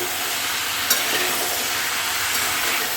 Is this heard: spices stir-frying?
yes